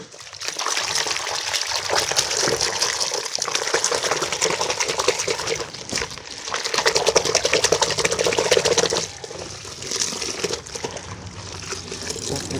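Steady rushing water pours continuously into a bucket for several seconds, loud and close, with a brief dip partway through before the flow resumes.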